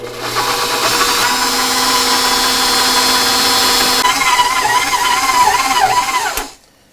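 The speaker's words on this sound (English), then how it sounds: "I'm going to put the dough hook on the mixer" Stand mixer with a dough hook kneading pizza dough, giving a loud, steady motor whine and hum that carries on for about six seconds before cutting off abruptly.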